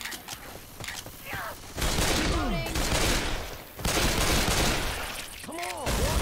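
Gunfire in the zombie shooter Left 4 Dead 2, sustained rapid bursts of shots in two loud stretches mixed with game effects, with faint talk in the background.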